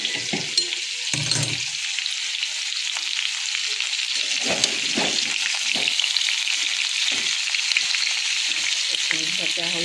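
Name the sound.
frying ginger and garlic in a pan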